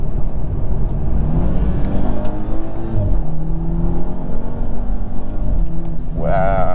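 A 2021 Mk5 Toyota Supra 2.0 revs and lifts off, its exhaust giving low rumbling burbles with shifting engine tones close by, ending in a brief rising note, with a voice speaking over parts of it.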